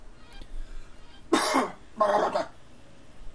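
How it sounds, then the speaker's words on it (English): A man coughs twice in short, harsh bursts, the second following about half a second after the first, close to the mic and otherwise quiet. "That was me coughing again."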